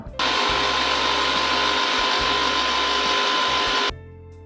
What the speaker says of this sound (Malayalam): ഇനി ഇതൊന്ന് നന്നായിട്ട് അടിച്ചെടുക്കാം.